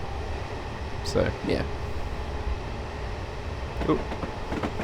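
A Class 303 electric train runs in the game Train Simulator 2015 between Larkhall and Rutherglen, giving a steady low rumble and airy hum, while someone speaks briefly over it.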